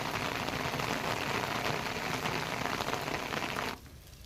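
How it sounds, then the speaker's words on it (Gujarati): Heavy early-morning monsoon rain pours down in Gujarat as a dense, steady hiss of drops on surfaces, then cuts off abruptly near the end. "વહેલી સવારથી જ વરસાદ વરસી રહ્યો છે"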